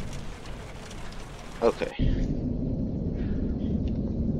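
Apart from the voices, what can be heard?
rain and thunder in the video game The Joy of Creation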